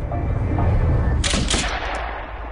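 Gunfire cracks out in a Chinatown gang shooting attack on the Wah Ching gang, a loud burst of several sharp shots in rapid succession following a rumbling, noisy stretch, then fading echoes.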